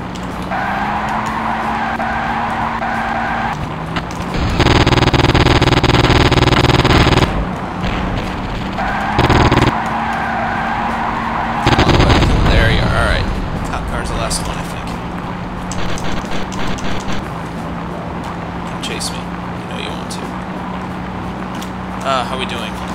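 Car combat in the video game Interstate '76: a droning vehicle engine with tire skids and bursts of loud gunfire, punctuated by sharp blasts, while someone talks over the action.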